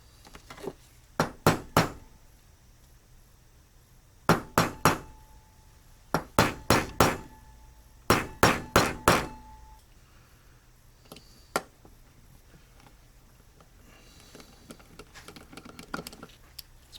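Hammer striking a metal punch to dimple small motorcycle ignition screws on a 2008 Kawasaki Concours 1400, sharp ringing taps in quick clusters of two to four, close and loud against a quiet workshop, with no talking.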